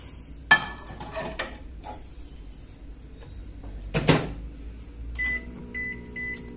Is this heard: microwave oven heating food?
yes